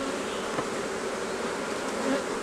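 Honeybees buzz steadily around an opened hive being inspected, a dense continuous hum close by, with no voices.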